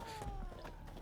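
A cat meows once, close and quiet, a short drawn-out call lasting under a second over faint background noise.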